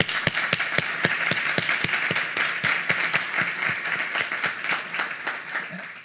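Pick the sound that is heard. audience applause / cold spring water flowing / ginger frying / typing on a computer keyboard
audience applause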